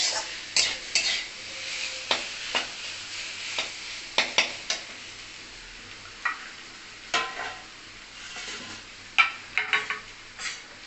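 Khanakun leaves being fried and stirred in a metal kadai, with a low steady sizzle broken by repeated sharp scraping and clinking strokes of the spatula at close range, no voices.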